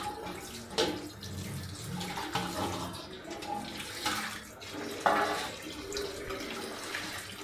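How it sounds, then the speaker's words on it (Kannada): Water poured off a dinner plate while washing it with turmeric and salt water, splashing in bursts with brief louder gushes against continuous running-water noise, close by and with no talk. "ಪ್ಲೇಟಲ್ಲಿರೋ ನೀರನ್ನ ಚೆಲ್ಬಿಟ್ಟು ಪ್ಲೇಟ್ ತೊಳ್ಕೊತೀನಿ."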